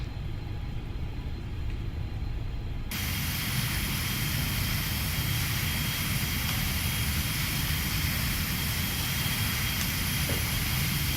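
A BAe 146 airliner takes off in a flight simulator game, the engine roar jumping up sharply after a quieter start and then holding as a loud, steady, broadband rumble and whine throughout.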